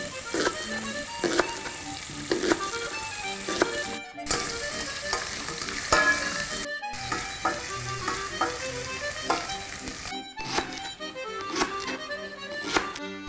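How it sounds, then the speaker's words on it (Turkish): Carrots sizzle and crackle steadily in a hot pan alongside chopped leeks, with occasional stirring clatter and brief gaps in the frying sound. "Havucumuz da biraz böyle kızarır gibi oldu."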